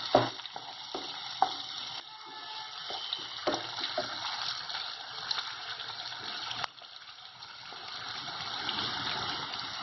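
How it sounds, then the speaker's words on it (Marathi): Chopped onions sautéing in a pan for a Malvani-style red gram usal, a steady frying hiss with a few sharp clinks and stirring scrapes of a spoon early on, close and continuous with no talk. "हा कांदा जो छान परतून घ्यायचा आपल्याला."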